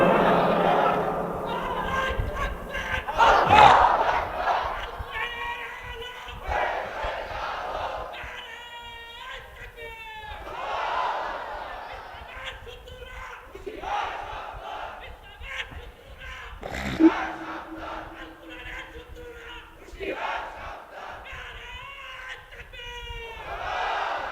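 At a religious gathering, a large crowd answers a takbir call by shouting Allahu Akbar in loud, repeated waves. Between the outbursts, a preacher's amplified voice calls out.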